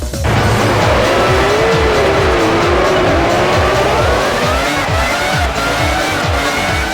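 F1 racing cars from the video game F1 2001 roar loudly and continuously, with dense engine whine, rapid gear-change pulses, tire squeal and skidding throughout, and no talk.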